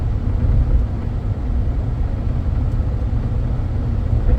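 Low, steady engine and road rumble from a 2006 Ford F150 pickup truck being driven, a continuous smooth hum heard from inside the cab, with no voices.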